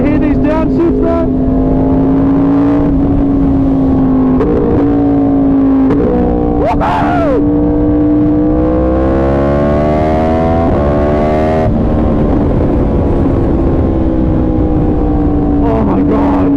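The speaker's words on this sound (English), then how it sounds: "Y'all want to hear these downshifts though?" A 1000cc motorcycle engine revs loudly through a series of downshifts, its pitch dropping and blipping up between gears while riding, with wind roar underneath and a person talking over it.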